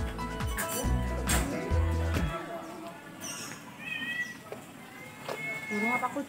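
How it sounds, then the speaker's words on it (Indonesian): A cat outside a house in a residential neighborhood meows a few times, faint and somewhat distant, amid background noise and nearby voices talking. "Burung apa kucing? Oh, kucing."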